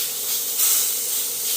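A steak sizzles in a hot pan after being flipped, a steady close hiss that swells slightly midway with no talking.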